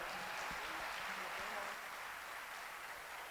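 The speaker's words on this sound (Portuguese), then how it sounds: "Vamos a dar otro fuerte aplauso al Señor." A church congregation gives a sustained round of applause, a dense steady wash of clapping filling the whole moment at even loudness, with no talk over it.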